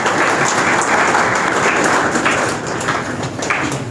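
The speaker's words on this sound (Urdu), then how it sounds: "تشریف لاتے ہیں آپ سب کی بھرپور تالیوں میں" Enthusiastic audience applause at a school and college opening ceremony, welcoming a retired professor to the stage; dense, steady clapping fills the whole stretch, close and loud, easing slightly toward the end.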